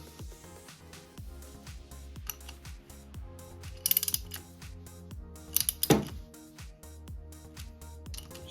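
A ratchet clicks rapidly in steady bursts while tightening a fitting on a heating oil filter for a boiler or furnace, with a couple of sharper metallic clanks partway through, close and clear with no talk.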